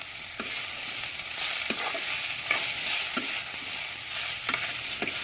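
Cauliflower stems are stirred and fried in a pan: a steady oily sizzle with a short scrape or clack of the spoon roughly every second, close and fairly loud, with no voices.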